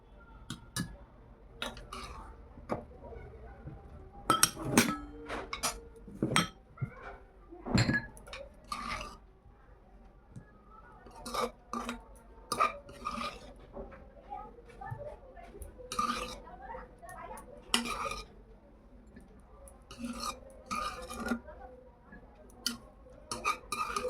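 A spoon knocks against small bowls while cooled tutti frutti colours are portioned out one bowl at a time, making sharp, scattered clinks in irregular clusters over a quiet room.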